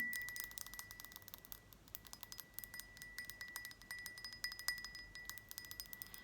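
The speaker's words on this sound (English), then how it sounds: "when I hold it from this portion here, you get more of like a ring in the glass" Fingers tap quickly and lightly on an Egyptian-style decorative glass jar, producing rapid clinks with a thin, bright ringing tone that lingers between taps, close and fairly quiet, with no talking.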